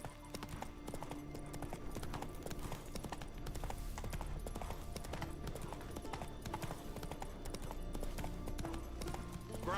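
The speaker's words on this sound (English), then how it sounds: "Run, Roach" Galloping horse hooves in The Witcher 3 pound continuously in a fast, even rhythm beneath game music and ambient sound, moderately quiet throughout.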